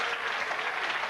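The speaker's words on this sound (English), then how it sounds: "they're clapping the excellence of that shot" A crowd applauds steadily at a lawn bowls match, the Goldpin Classic men's game, a dense, even wash of clapping close and full throughout with no pauses.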